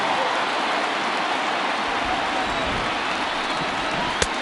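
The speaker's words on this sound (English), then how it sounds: "the rain starting to intensify here. It's coming down a little heavier now." Steady rain falls on a baseball stadium during a World Series game, a dense, even hiss throughout with a faint crowd murmur beneath and one brief sharp knock near the end.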